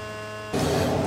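A router cutter machining a groove in a wooden door panel starts up abruptly and runs with a loud, broadband whine and rasping noise after a short stretch of steady motor hum.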